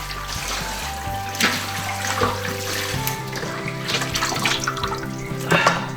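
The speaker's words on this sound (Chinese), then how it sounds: "我们把鸭子清洗了哈，就可以开炒了" Tap water runs steadily into a sink while a duck is rinsed, the flow splashing and shifting in tone as the meat is moved under the stream, with brief louder splashes.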